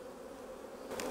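Honey bees buzzing inside a split hive during an inspection, a steady close drone holding for the whole moment without voices, rising slightly near the end.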